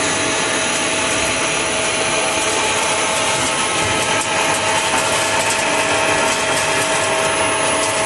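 Pyrolysis plant machinery at the pre-dryer unit exit, with material dropping into a feed hopper, a loud steady broadband mechanical roar with faint rattling texture, continuous and unvarying throughout.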